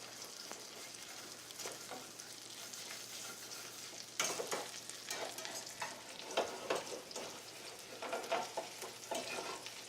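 Chicken pieces for parmesan chicken fry in a hot pan with a steady, quiet sizzle. A few sharper crackles and stirring sounds cut in partway through.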